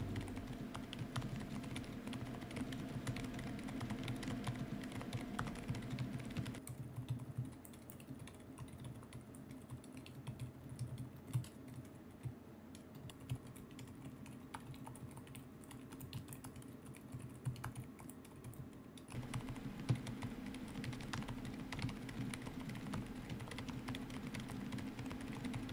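Rapid, steady typing on a Lofree low-profile mechanical keyboard with Hades switches, soft clicky keystrokes close up, with a quieter stretch in the middle.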